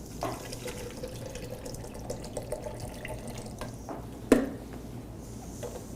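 Water runs in a low, steady trickle into a container, faint and continuous, with one brief louder splash or clink near the end.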